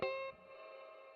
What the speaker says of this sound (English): Spring reverb.